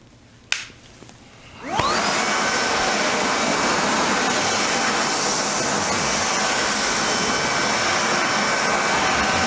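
A Nacecare RSV 150H electric backpack vacuum cleaner switches on after a click, its motor whining up over about a second into a loud, steady high-pitched roar that holds unchanged to the end.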